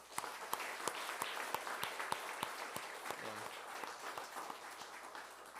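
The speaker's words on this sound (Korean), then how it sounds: "우리 감사의 박수 드리겠습니다" A church congregation gives a round of thanks applause for standing teachers, soft steady clapping with a few sharper nearer claps, faint overall.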